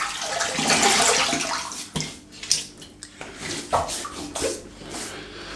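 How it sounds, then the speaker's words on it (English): Water splashes and sloshes at a sink as hands wet the face before shaving. A steady running wash comes first, then irregular close splashes and drips. "let's wet the face"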